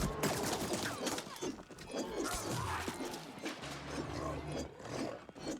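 Dense, rapid enemy gunfire rattles nonstop in the cyberpunk action RPG The Ascent, with overlapping shots, impacts and mechanical clatter close and loud throughout.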